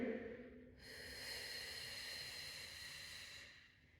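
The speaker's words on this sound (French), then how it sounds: "L'expire peut être très lente." A long, slow exhale during a Pilates exercise, a soft airy hiss that starts after a brief pause and holds steady for a few seconds before fading, close and quiet with no talking.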